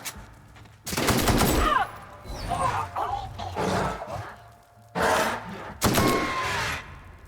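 Gunfire in the video game The Outer Worlds, loud, close, rapid bursts of shots in two main volleys with a quieter stretch between, with voices talking in the gaps.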